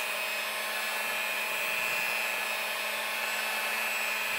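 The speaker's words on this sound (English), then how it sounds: "And I have my mixer on low," An electric hand mixer running on low speed while mixing a Duncan Hines dark fudge box cake batter: a steady, unbroken whirring drone throughout, with no voices.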